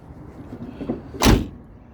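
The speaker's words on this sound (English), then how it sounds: "That door closes really good." An old truck's door slams shut once, a single loud, solid thud up close, preceded by faint handling noise; no talking.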